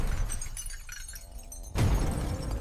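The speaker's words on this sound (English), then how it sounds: "Glass shattered everywhere around us." Glass shatters loudly and close in a chaotic scene, a sudden burst of breaking and scattering shards that carries on to the end, with no talking.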